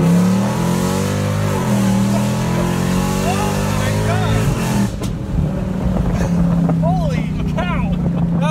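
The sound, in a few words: Mercedes-AMG SLK55 accelerating hard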